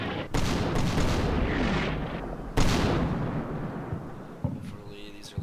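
Small howitzer shells fire and land in the WWII strategy game Combat Mission Final Blitzkrieg: two heavy booms, each with a long rumbling decay, followed by fainter distant crackle.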